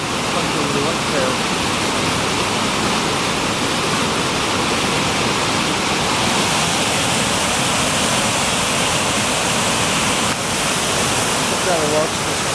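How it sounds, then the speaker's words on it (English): Steady broadband rush of a waterfall beside Sprotbrough Lock near Doncaster, continuous and fairly loud for the whole stretch, with faint bird calls drifting in now and then. "Trying to watch this fall to the edge there, the waterfall."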